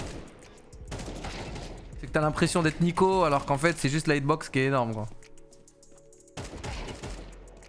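Spray fire from a weapon in Counter-Strike 2 during a duel: quick bursts of rapid gunshots, partly under someone speaking French in the foreground, with a short burst of shots at the end.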